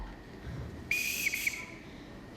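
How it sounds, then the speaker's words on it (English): A captain blows a whistle for the children during a high school stage production of The Sound of Music: one sharp, shrill blast with a warbling trill, loud over quiet hall ambience. "He never whistled for us when his wife was alive."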